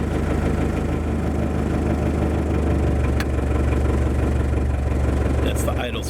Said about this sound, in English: Oh yeah, the sweet sound of a diesel engine,